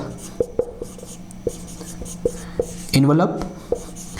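Chalk or marker tapping and scraping on a board during a lecture, a series of short, sharp strokes spread through the clip, close and fairly clear, with a brief spoken syllable partway through.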